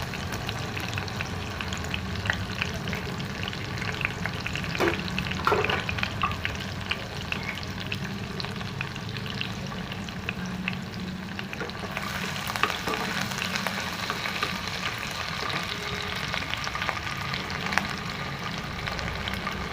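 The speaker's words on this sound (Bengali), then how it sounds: "এই রসুন আর কাঁচা লঙ্কা কুচিটাকে আগে দিয়ে দিলাম, আর আদাটাও দিয়ে দিচ্ছি ওর সঙ্গে।" Minced garlic, green chili and ginger fry in a few spoonfuls of hot refined oil for methi paneer, a dense, even hiss with soft scraping stirs now and then, close up and steady throughout.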